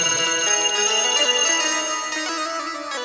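Temple bell rung during a Bhagavat Katha recitation: a bright metallic ringing tone sustained and slowly decaying, clear and close, with no voices.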